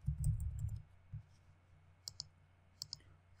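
Computer keyboard being typed on quickly, a few soft clustered key clicks separated by gaps, faint and close with low background hum.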